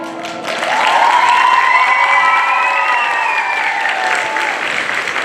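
Audience applause and cheering fill a concert hall for a Ukrainian vocal-instrumental ensemble on stage, swelling quickly and holding as a dense, loud, steady clapping that fades slightly at the end, with a musical tone ringing over it.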